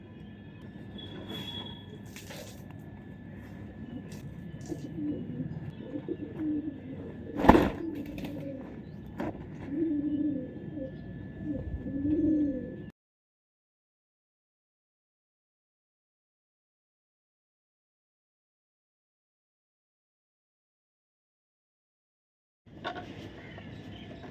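Pigeons coo softly amid scattered clatter and household noise, followed by a long stretch of silence before the sounds briefly resume.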